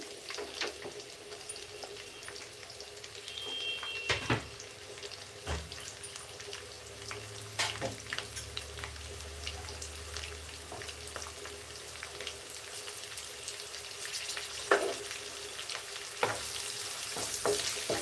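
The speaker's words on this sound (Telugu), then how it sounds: "ఇవన్నీ కొంచెంగా పచ్చిమిర్చి కరివేపాకు జీలకర్ర ఇవన్నీ కూడా చక్కగా ఆయిల్ వేగితే" Curry leaves, green chillies, onion and cumin fry in hot oil with a steady close sizzle, broken by occasional sharp pops and the clatter of stirring.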